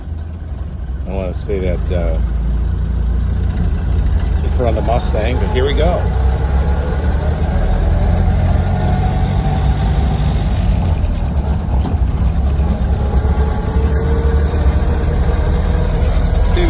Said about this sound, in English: turn the ignition on, and here's the starter